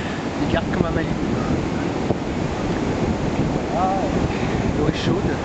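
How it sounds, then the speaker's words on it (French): Powerful surf breaks on an Australian beach at Noosa, a constant loud wash of waves mixed with heavy wind buffeting the microphone, with faint voices in the background. "C'est des vagues très puissantes."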